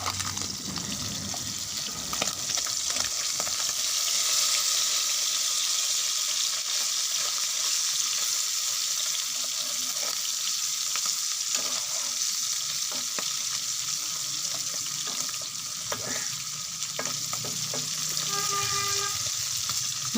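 Small puti fish fry lightly in hot oil in a pan, a steady close sizzle and crackle running throughout, with occasional clicks and clinks of utensils.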